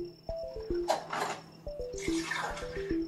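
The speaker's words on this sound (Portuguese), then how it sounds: "Eu vou colocar agora, então, a água aqui" Water poured into a sphagnum moss plant support pole, uneven splashing and gurgling pours in bursts, with repeated musical descending tones ringing in the background.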